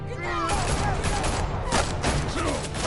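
Rapid gunfire bursts in Telltale's Batman game, loud and dense, with a continuous sharp crackle of shots over a game soundtrack and brief voices.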